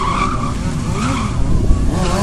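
Stunt motorcycles drifting at an outdoor stunt show on a Bemowo event ground, series-production bikes specially prepared for the tricks, giving a loud sustained tire skid and squeal over steady engine roar with crowd-like ambience.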